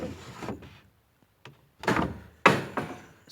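A wooden chicken house door is opened and closed several times close by, giving scraping swishes and solid thuds with short pauses in between, and no voices.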